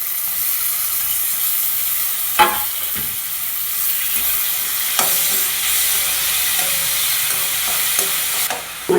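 Chopped tomatoes fry in a pan for a Tamil-style tomato kuzhambu, giving a steady loud sizzle and hiss with a few sharp scrapes of a spoon stirring them.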